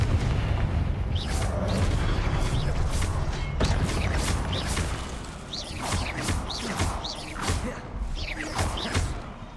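Confringo blasting spells in the video game Hogwarts Legacy, repeated booming explosions with sharp whooshing bursts over a loud rumbling bed, several blasts in quick succession close up.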